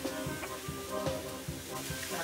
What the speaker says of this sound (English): I'm just going to go ahead and put our meat back in with the mushrooms and the onions